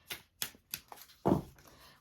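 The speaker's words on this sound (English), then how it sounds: "So let me shuffle the cards for our 3-card pick." Quick riffling shuffles of oracle cards, three short bursts and a couple of softer ones, then a louder, longer riffle near the end. No speech.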